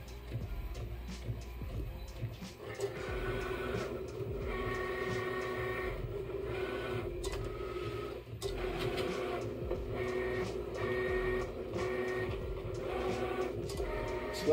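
A Cricut cutting machine cuts glitter HTV, giving a moderate mechanical hum and whir with repeated rhythmic carriage movements and clicks that continue steadily.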